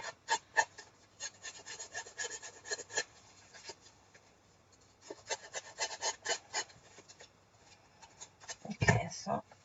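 Paper edges being scraped while assembling a shabby chic scrapbook layout, heard as bursts of soft, close rasping strokes separated by quiet pauses, ending with a louder knock or rustle.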